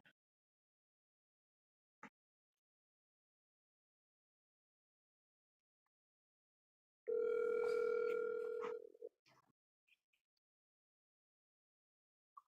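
A telephone dial tone sounds while a friend is being called during an NHL trivia phone-a-friend game, a steady, fairly loud tone lasting about two seconds. A few faint clicks and taps come before and after it, and no one speaks.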